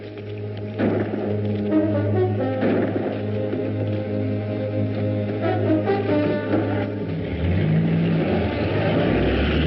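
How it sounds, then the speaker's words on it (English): Car driving off, its engine revving and accelerating loudly with rising and shifting tones, close and continuous, ending in a deeper rumble. "They're taking off in the car."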